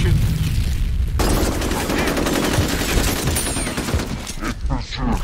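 Dense automatic gunfire rattles continuously in the FEAR Combat video game, loud and close, with sustained bursts and booms and game voices faintly mixed in.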